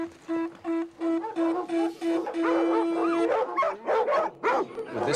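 Alano dogs bark and yelp in a rapid series of loud, close calls, some rising toward howls, over a steady tone and background noise.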